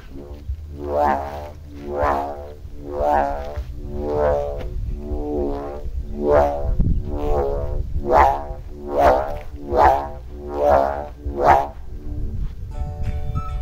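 A repeated warbling, hooting tone from a homemade noisemaker made from a Mountain Dew bottle, not yet fitted with glass, rises and falls about a dozen times in a steady rhythm, loud and close, over a low rumbling background.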